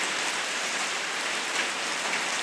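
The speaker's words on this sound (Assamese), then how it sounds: "এয়া বৰষুণ, এয়া দেখিছেনে বৰষুণ।" Steady rain pouring down and pattering on surfaces at home in Assam, a dense, even hiss of countless drops, close and constant with no talking.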